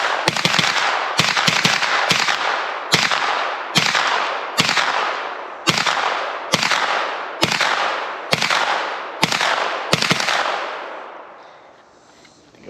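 A Steyr AUG 9mm bullpup fires about a dozen loud shots at a steady pace. The sharp reports come roughly every second, each with a long reverberating tail, before the gun falls quiet.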